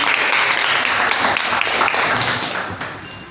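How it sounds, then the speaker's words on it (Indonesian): A classroom audience during a peer-teaching session applauds, a dense, steady burst of many hands clapping close by that tapers off toward the end. "tepuk tangan sekali lagi"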